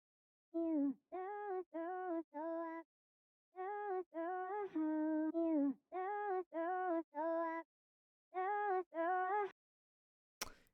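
Chopped vocal samples, dry with no effects and slightly pitched up, sound as short sung syllables in rhythmic bursts with clean harmonics and brief gaps between phrases, ending in a sharp click.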